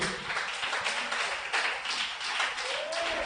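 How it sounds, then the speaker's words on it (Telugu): A church congregation claps along together during a Telugu Christian sermon, a dense, steady wash of many hands filling the room, with no voices standing out. "చప్పట్లు కొట్టి దేవుని మహిమపరచండి."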